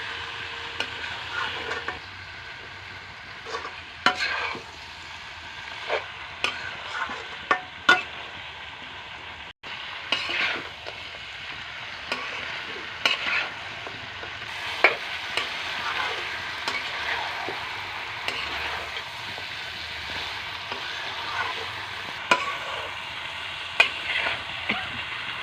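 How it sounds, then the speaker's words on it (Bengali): Chicken, a home-raised local bird, stir-fried in a pan for a curry, with a steady broadband sizzle and frequent sharp scrapes and clinks of a spatula against the pan, continuing for the whole stretch without talk. "পাঁচ থেকে 10 মিনিট কষিয়ে নিলাম"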